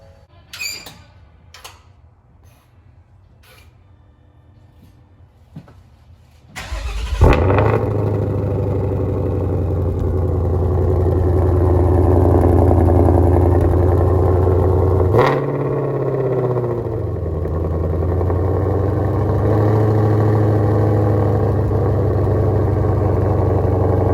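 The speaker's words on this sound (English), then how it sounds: "I'm going to be showing you what this GT500 sounds like when it's put on track mode." A Ford Mustang Shelby GT500 with a 5.2-liter intercooled supercharged V8 in track mode: faint clicks, then the engine barks to life and settles into a loud, deep, rumbling idle with a brief blip partway through.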